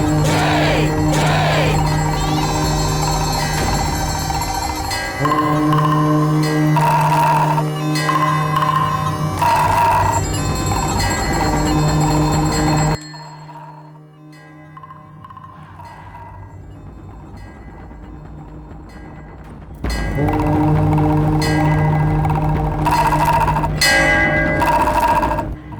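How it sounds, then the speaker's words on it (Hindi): Temple bells clang and a nagada drum beats steadily during a Hindu prayer, loud and continuous with dense metallic ringing, dropping to a quieter stretch midway before the full bell-and-drum din returns. "घंटी और नगाड़ा बजाओ।"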